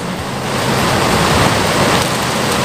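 Heavy rain pours steadily and grows stronger, a dense, close, continuous hiss that swells slightly after the first moment, with no voices.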